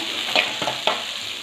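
Sliced onions sautéing in a pan for chicken gravy, a soft continuous sizzle with a few quick spoon scrapes, close and alone without talk.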